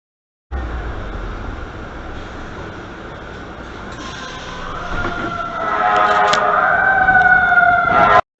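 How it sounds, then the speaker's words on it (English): A fire truck passes by a bus stop in Canada, its siren rising out of steady street and traffic noise and growing louder and closer over the final few seconds. "they had a siren and a fire truck passing just the moment I got off the bus there"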